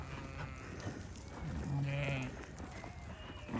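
Ewe lambs bleat in a farm pen, with one drawn-out bleat in the middle rising over a background of rustling, movement and faint voices.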